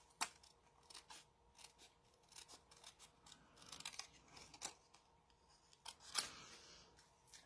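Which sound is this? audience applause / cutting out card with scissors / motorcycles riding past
cutting out card with scissors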